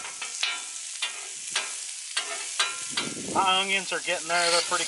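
Onions sizzling on a griddle for a Philly cheesesteak, a steady crackling fry with sharp scraping stirs at regular intervals, while a person talks over it in the second half.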